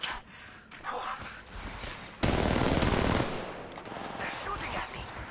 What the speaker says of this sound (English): They're shooting at me. Firing.